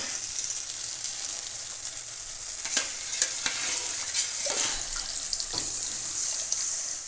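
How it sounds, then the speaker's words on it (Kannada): Buttermilk is poured into a pan of fried tempering for a buttermilk sambar, with steady sizzling, splashing and stirring throughout and a few sharp spoon clinks against the pan, close and fairly loud. "ಇವಾಗ ಮಜ್ಜಿಗೆ ಹಾಕ್ಕೊಂಬಿಡೋಣ"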